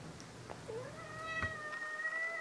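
A cat gives a long, rising meow up close, plaintive and drawn out, with a steady fan hum beneath.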